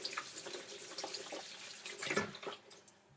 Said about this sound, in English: make sure you rinse off your hands because it gets everywhere